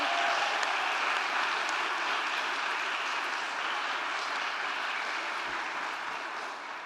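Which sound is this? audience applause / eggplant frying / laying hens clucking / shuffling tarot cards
audience applause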